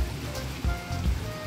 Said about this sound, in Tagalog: Yan, maulan-ulan.